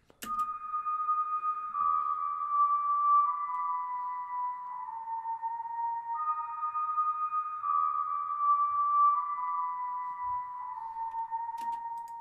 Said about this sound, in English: I just added a ocarina low from same thing, Spaghetti Western.